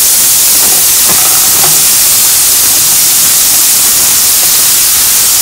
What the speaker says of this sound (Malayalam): ചൂടായ എണ്ണയിലേക്ക് ക്യാരറ്റ് ചെയ്യുക.